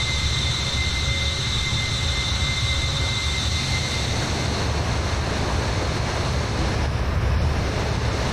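Avro Vulcan jet engines in Microsoft Flight Simulator, a steady loud broadband roar with a faint high whine, continuous throughout and alone, like airflow over a sustained engine rumble.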